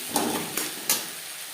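Crushed garlic drops into hot oil with onions for a rupchanda fish curry, giving a close sizzle with three quick bursts of stirring over a steady fizz, with no talking.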